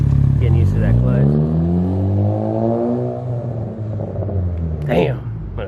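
A 2017 Honda Civic Si pulls away with a manual clutch, its engine rumble rising through gears and slowly fading into the distance, with a voice speaking briefly over it.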